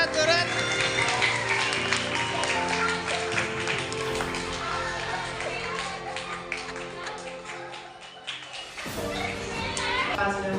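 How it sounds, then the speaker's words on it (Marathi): Children at a school balloon game clap their hands in a rapid, continuous patter under lively kids' chatter and background music, with a brief dip near the end before the clapping and voices resume. "टाळ्या वाजवा लवकर,"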